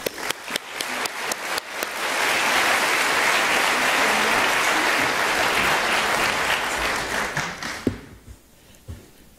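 A crowd breaks into sustained applause, building from scattered claps to a full, dense roar of clapping before tapering off near the end.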